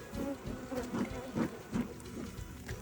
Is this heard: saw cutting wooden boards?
no